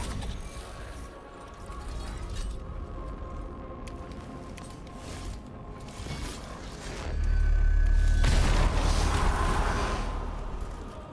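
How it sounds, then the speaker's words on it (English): A matrix explosion in the Warhammer 40k Mechanicus video game builds from mechanical creaks and whirs into a loud, sustained low rumbling blast that slowly fades. "Matrix explosion."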